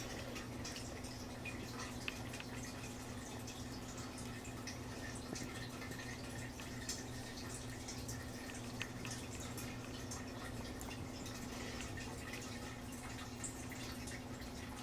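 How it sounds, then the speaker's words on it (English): Water drips steadily in a home aquarium, soft repeated drops over a constant low electrical hum from the fish tank, faint and without any talking. "If you hear the dripping water in the background, I actually have a fish tank behind me"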